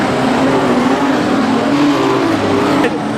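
A modified sedan race car runs at Kingaroy Speedway during a Golden Helmet Series A-Main, its loud engine roaring steadily and close throughout.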